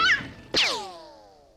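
A cartoon cat lets out two short meows, a quick high mew and then a louder drawn-out meow that slides downward and fades, clear and close with no talking.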